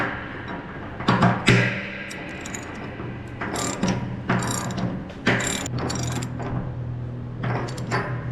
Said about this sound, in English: We got our old relief valve coming off, and we'll be dropping in the new relief valve now.